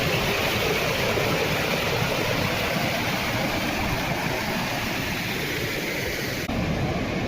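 Floodwater after heavy rain in a village, a dense, continuous rushing roar of fast-flowing water, loud and steady throughout with no voices.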